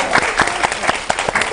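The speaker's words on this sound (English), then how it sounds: "Let's give her a round of applause." Audience applause from a crowd at a talk show, steady clapping with sharp individual claps throughout, fairly loud and close.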